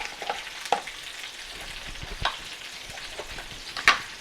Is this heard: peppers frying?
yes